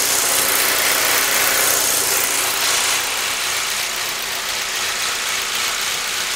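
A 2008 Saab 9-3 2.0T engine runs at idle during a misfire check. It gives a continuous, close drone with a faint uneven roughness and a broad hiss on top. No speech is heard.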